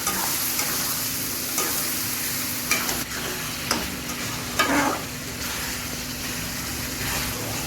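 Spices with salt and turmeric are stirred and sautéed in a pan for a chicken kosha, a steady sizzle broken by several sharp scrapes of the spoon, close and fairly loud with no talking.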